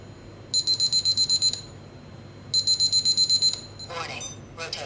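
Electronic RPM warning alarm from a Swiwin turbine telemetry remote, sounding as two loud bursts of rapid high-pitched beeps, eight or so pulses each, with a short pause between them and faint voice-like sounds near the end.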